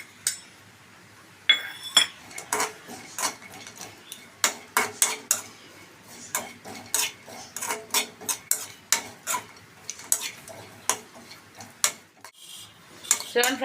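Coconut frying in a pan and being stirred, a metal spoon scraping and clinking against the pan in quick irregular strokes over a low background, close up with no talk.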